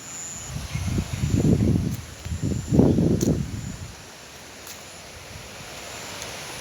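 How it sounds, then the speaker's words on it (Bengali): Strong wind with rain sweeps through a garden, rising in two loud roaring gusts before easing to a softer steady hiss, close to the microphone with no voices. "বৃষ্টি এবং প্রচুর বাতাস"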